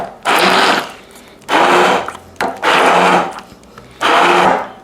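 A blender on low speed breaks up corn kernels in short loud bursts, four pulses separated by brief pauses, close and with no talking.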